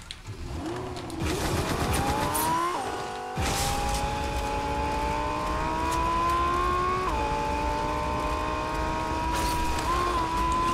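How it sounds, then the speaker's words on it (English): A Lamborghini's engine in Fortnite revs hard and climbs through the gears, loud and close. Its steady high-pitched roar holds with brief shifts and tire noise, and no one speaks. "There's my Lambo."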